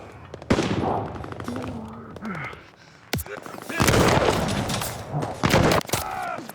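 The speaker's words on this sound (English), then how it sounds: "I don't know who's fucking shooting me right now." Gunfire in the video game Call of Duty: Vanguard comes in rapid bursts of shots, some sharp single cracks and some sustained volleys, with someone talking in between.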